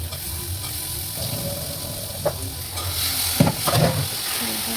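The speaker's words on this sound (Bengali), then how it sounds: "জিরে গুঁড়ো, লঙ্কার গুঁড়ো, গরম মশলা, এগুলো নাড়াচাড়া করে এখন ছোলাটা দিয়ে দেবো।" Chickpeas and ground spices (cumin, chilli powder, garam masala) are stirred in a hot pan, giving a continuous close sizzle with occasional scraping knocks from the spoon.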